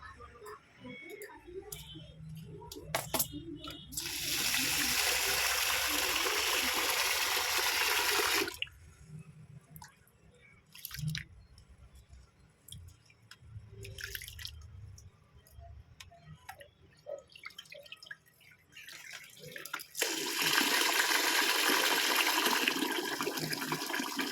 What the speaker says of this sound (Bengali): আমি চালটা ধুয়ে দিয়ে দিলাম আর নেড়ে নিলাম